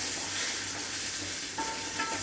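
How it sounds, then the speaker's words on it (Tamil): Curry leaves and garlic sizzle and fry in a pan, a steady close hiss of hot oil with light stirring throughout. "நல்லா கருவேப்பிலை போட்டு வதக்கிட்டு"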